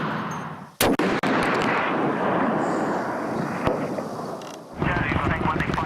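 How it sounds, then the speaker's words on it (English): Heavy machine gun and sniper fire during a firefight in Afghanistan, with a few sharp, loud cracks early on over a dense, continuous roar of distant gunfire and noise. "immediately try to suppress them with heavy machine guns and sniper fire"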